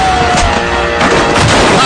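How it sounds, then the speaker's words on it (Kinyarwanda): Gunfire and explosions in a dubbed action film, loud bursts and booms over a dense, continuous soundtrack with music, a sharp blast near the middle and more strikes toward the end. "ibisasu byumvikanye sasu ryarambukanye mu kirere"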